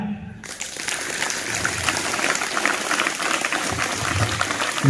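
Crowd of schoolchildren and teachers at an Independence Day school assembly clapping loudly for soldiers, a dense, steady roar of applause that starts abruptly and holds throughout.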